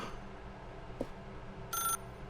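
A telephone rings in the video game The Stanley Parable: Ultra Deluxe, a short bright electronic trill near the end over a low, steady ambient room hum.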